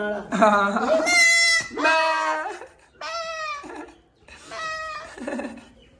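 A goat standing nearby in a Punjabi village gives several loud, wavering bleats close to the listener, with short pauses between calls.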